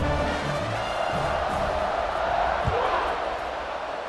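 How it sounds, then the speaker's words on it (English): Steady, loud buzz of a large college football stadium crowd at an LSU at Florida game after a touchdown, a dense continuous roar of many voices filling the whole stretch with a brief thump partway through. "this crowd is buzzing after that last score"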